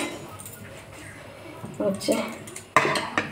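Cooked rice being served onto plates with metal utensils in a home kitchen: scattered scraping and clinking of spoon against dishes, a sharp clatter near the end, over quiet room background.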